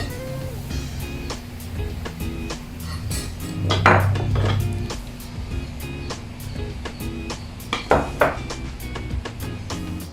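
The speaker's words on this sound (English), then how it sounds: "So we are mixing salt, sugar, and baking soda, and also baking powder" Dry cake ingredients (salt, sugar, baking soda and baking powder) being mixed in a bowl for a banana cake, with steady clinks and scrapes of a utensil against the bowl and a few louder knocks, close and alone.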